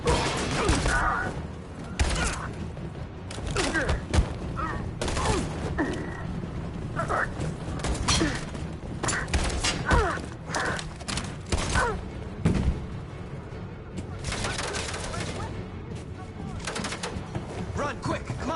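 Video game gunfire in Detroit: Become Human, with repeated sharp shots and bursts crackling over a chaotic scene, mixed with shouting voices and background commotion.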